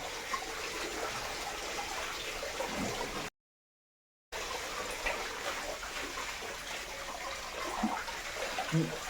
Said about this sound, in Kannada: ಹಿಮ್ಮದ್ಗಿರಿ ಫಾಲ್ಸಿಗೆ ಬಂದ್ವಿ